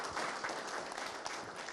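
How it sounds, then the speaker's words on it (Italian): Audience applause at an Italian variety show, a brief, dense wash of many hands clapping, faint and distant throughout. "ti facciamo un applauso"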